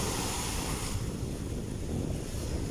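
Strong high-tide waves with floating trash churn against the shore at Baseco, Tondo, Manila. The surf makes a steady, dense roar, with wind buffeting the microphone throughout.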